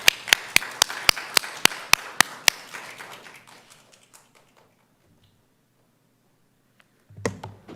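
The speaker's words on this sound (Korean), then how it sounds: "우리 박수로 환영하도록 하겠습니다" A church congregation at a Sunday service claps to welcome the pastor, a run of about ten sharp, evenly spaced claps that thins into scattered clapping and fades to near silence before a brief final burst.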